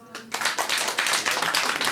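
Live studio audience at a Lithuanian comedy talk show bursts into steady, dense clapping after a brief quiet moment, sustained applause filling the room.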